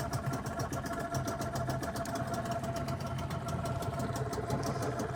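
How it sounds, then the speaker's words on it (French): A boat tender's outboard motor running at idle after being started, a steady mid-pitched engine drone with constant level and fine rapid firing pulses throughout, close by and without talk. "Je mets mon starter ici et je démarre."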